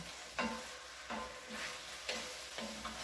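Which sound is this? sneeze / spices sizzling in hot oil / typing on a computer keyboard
spices sizzling in hot oil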